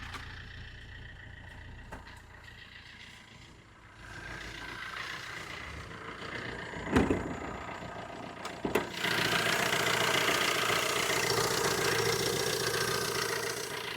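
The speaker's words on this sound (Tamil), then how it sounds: "இந்த வண்டியோட இன்ஜின் இப்போ நம்ம ஸ்டார்ட் பண்ணிட்டோம்." A 2010 Tata Indigo Manza diesel car engine idles steadily with a low rumbling drone, a couple of sharp clunks midway, then a louder, brighter engine note.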